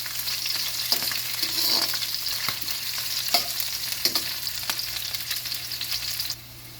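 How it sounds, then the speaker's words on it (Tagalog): Sliced onions sautéing in a pan while being softened for pork binagoongan give off a steady, close sizzle, with occasional scraping stir clicks throughout and a slight drop in intensity near the end. "Palambutin lang natin ng bahagya yung sibuyas guys"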